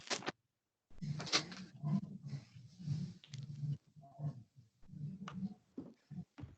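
A dog barks at home during an online class, a series of short, fairly faint barks with brief pauses between them.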